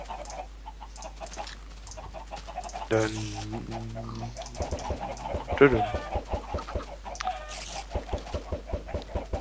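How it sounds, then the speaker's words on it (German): Chickens clucking in a Minecraft chicken farm, several short repeated game clucks close by, with a voice speaking briefly over them. "Ich bin noch schnell in die Hühnerfarm."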